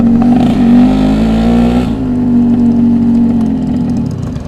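A motorcycle engine with its exhaust silencer filter missing revs hard, a loud raw blatting roar that swells and drops back toward a rough idle, close by and without talk.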